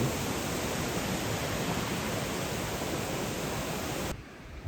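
Paraeso waterfall on Sinbulsan, a small falls about 3 m high with very clear water, gives a steady, dense rush of falling water that holds loud and even, then drops away sharply near the end.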